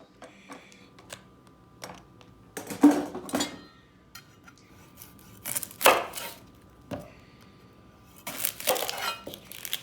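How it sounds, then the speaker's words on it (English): A knife chopping mushrooms and onions on a cutting board in a home kitchen, with sharp irregular bursts of chops separated by quiet pauses, close and distinct without talk. "cut up the mushrooms and the onions"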